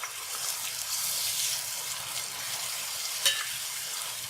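Six medium onions fry gently in a pan for a village-style desi chicken curry, giving a steady faint sizzle with soft stirring scrapes and one sharper clink near the end.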